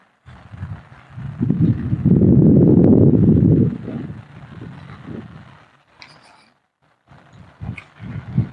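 Gusty wind buffets the microphone at an outdoor fishing spot as rain arrives, with a loud rumbling roar that swells and fades and some faint rustling between gusts.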